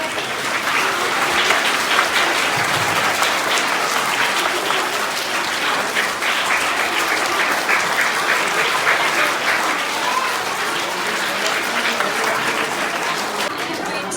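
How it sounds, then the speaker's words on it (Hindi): A school audience at an Independence Day event keeps up dense, steady applause, a continuous wash of many hands that stays loud and even throughout, with a faint murmur of voices beneath. "तालियां बजती रहे बराबर।"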